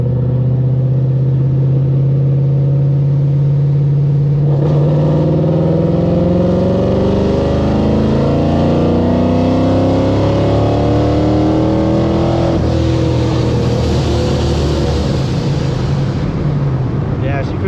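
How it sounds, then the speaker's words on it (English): A boosted Ford 5.0 3V V8 pulls hard in third gear from about 2,000 to 5,000 RPM, its loud, close engine note climbing steadily in pitch for over fifteen seconds before easing off. "we gotta do a little pull in third for 2K to 5K RPM"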